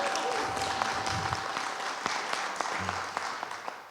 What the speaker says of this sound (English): Do we get to clap?